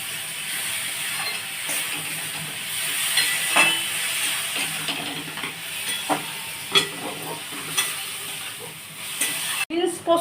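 Bean and poppy-seed korma with chopped green chillies cooks in a pan, giving a steady sizzle and hiss with occasional stirring clinks and scrapes, ending in a sharp knock.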